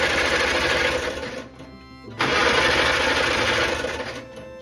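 A 1949 Farmall Cub tractor engine runs with a fast, buzzy mechanical rattle, cutting out briefly near the middle before surging back at full strength.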